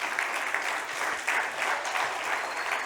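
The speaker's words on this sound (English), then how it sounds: "maybe we could just honour them by way of applause" A church congregation applauds its kids and youth team with continuous, even clapping throughout and no speech over it.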